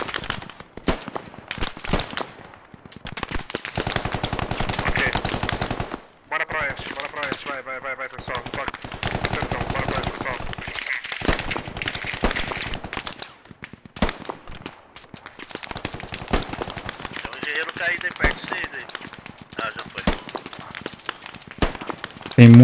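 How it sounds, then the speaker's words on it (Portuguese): Rapid bursts of machine-gun fire crackle again and again in a game battle, with voices talking over the shooting. "Tem muita metralhadora lá em cima"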